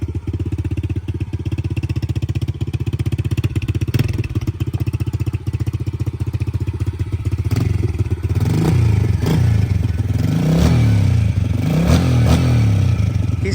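A dirt bike with no choke idles after a cold start, a loud, close, steady engine clatter that swells into several rising revs toward the end, with a faint voice beneath.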